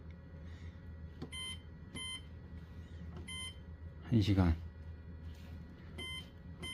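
Short electronic beeps from a dehumidifier's timer buttons sound a few times at irregular intervals over a low hum, with a brief spoken word in between.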